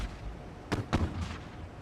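Naval guns of a 1926 destroyer fire in a naval strategy game, two sharp booming reports in quick succession followed by a softer third burst, fairly loud against a low rumbling background.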